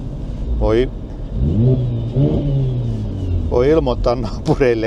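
Rough rumble of an old petrol car engine with a leaking exhaust pipe, idling and revving on a 5-degree day outdoors, running steadily under close speech throughout.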